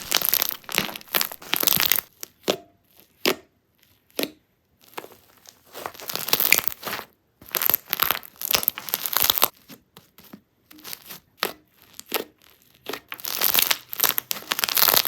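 Momo slime is squished and stretched by hand, giving dense crackling bubble pops and crinkly squelches in irregular close bursts separated by short pauses.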